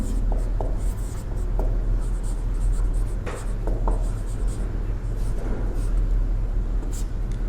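Pen writing a definition by hand during a class 9 biology lesson: quiet scratchy strokes and taps come in short bursts over a steady low background hum.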